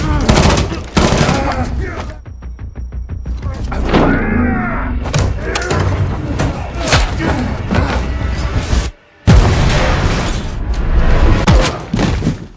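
Gunfire in an action film, with sharp bursts and rapid volleys of shots mixed with booms and impacts, loud and dense throughout and broken by a brief silent gap near the end.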